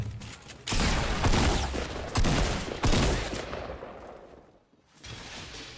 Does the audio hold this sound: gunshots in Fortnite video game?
yes